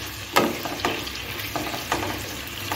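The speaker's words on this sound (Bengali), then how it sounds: "এখন একটু আমি নাড়ি চাড়িয়ে ভেজে নিচ্ছি।" Capsicum and onion petals stir-fry in a pan over a medium gas flame for chilli chicken, with a soft steady sizzle broken by regular clacks of the spatula against the pan.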